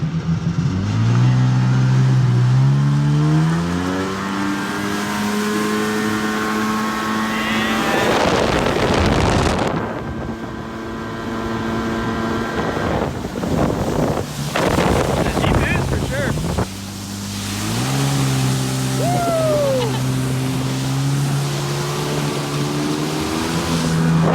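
A 1998 Sea-Doo GTI jet ski engine runs on open water, revving up and down in several surges with heavy wind buffeting the microphone, loud and close throughout with brief dips between pulls.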